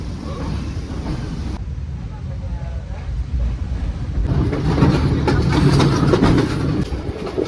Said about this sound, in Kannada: ಟ್ರೈನ್ ಮೂವ್ ಆಯಿತು ಗುರು